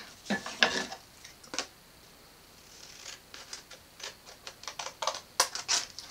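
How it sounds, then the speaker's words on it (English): Scissors snip paper along creased lines for a pinwheel, making a series of short, crisp cuts close by in irregular clusters with brief pauses between them. "The next step is to cut along your creased lines to the corners of your square."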